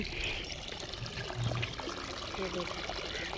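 Water flows steadily along a narrow channel dug into the soil in a Pakistani village, a continuous close trickling and pouring with no talk over it.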